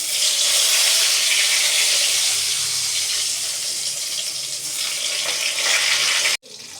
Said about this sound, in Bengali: পটলগুলোকে ভেজে নেব।